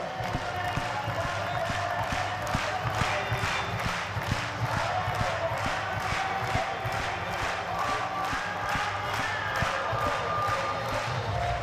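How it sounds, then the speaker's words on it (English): A big stadium crowd at a Savannah Bananas game in Kenan Stadium claps hands in unison, a steady, even beat of broadband claps repeating about twice a second over a low, murmuring crowd bed. "Clap those hands."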